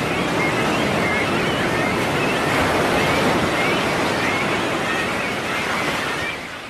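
Ocean waves breaking continuously on a shore where young cormorants land, a loud, steady roar of surf with wind, no voices.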